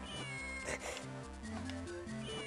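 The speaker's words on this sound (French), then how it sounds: "Coucou le chat. Je vais voir le chat." A cat meows in The Legend of Zelda: The Minish Cap, a couple of clear, close cries layered over the game's looping melodic music.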